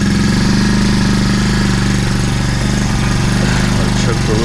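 A motorized fat-bike beach cruiser's small engine warms up with a fast, steady putter, loud and close throughout, holding an even rhythm without revving.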